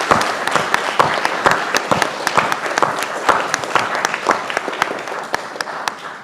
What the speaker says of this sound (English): a big round of applause for our panel